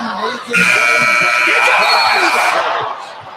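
An arena buzzer ends the half of an NBA basketball game with a loud, sustained electronic tone lasting about two seconds. It sits over crowd noise and broadcast commentary.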